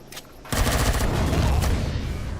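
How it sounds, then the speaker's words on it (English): Rapid automatic gunfire from enemies in the game Empyrion erupts after a brief quiet start, a loud, sustained burst of close shots rattling continuously to the end. "Ah, the other one's shooting me."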